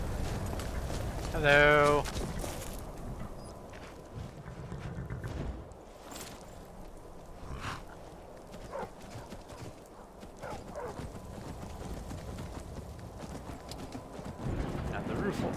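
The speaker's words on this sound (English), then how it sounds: "I hear my horse." Horse hooves clip-clopping in the Skyrim video game, a brief run of rhythmic hoofbeats early on amid game ambience, with a person talking over it.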